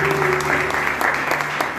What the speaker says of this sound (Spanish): Un fuerte aplauso al Señor por tenerlo